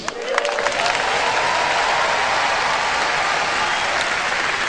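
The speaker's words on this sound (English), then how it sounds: "put your hands together for God Almighty" Audience clapping at a comedy show, dense sustained applause filling the room at steady loudness from start to finish, with a few sharp individual claps standing out near the beginning.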